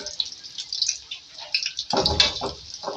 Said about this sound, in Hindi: फ्राई होना शुरू हो चुका है, इसका कलर आपको कहीं ना कहीं से गोल्डन नजर आ रहा है।